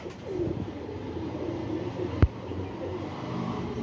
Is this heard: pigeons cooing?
yes